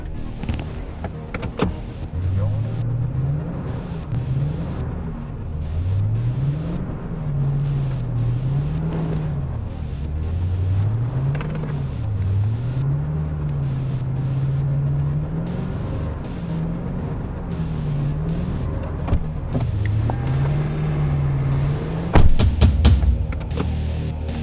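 A vehicle labors through deep sand on an antelope hunting trip in Wyoming, its engine droning loud and close throughout with revs rising and falling in repeated waves and no talk.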